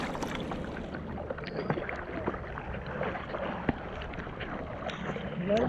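A kayak paddled through ocean waves, with splashing water and wind buffeting the microphone under a continuous wash of surf, a few faint voices in the background.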